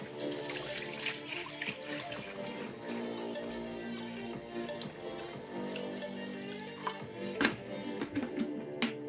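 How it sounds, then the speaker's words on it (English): Water runs steadily from a tap, splashing into a cooking pot for rice with a continuous gushing sound and occasional clinks of metal. "so now I'm going to add the water"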